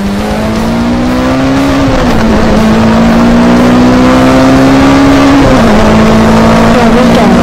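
Car accelerating hard in a cartoon chase, a loud, close, continuous engine whine that climbs steadily in pitch, dips briefly twice as if shifting, then keeps rising without any voices.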